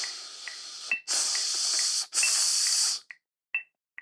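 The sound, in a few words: air blown through oboe without playing the notes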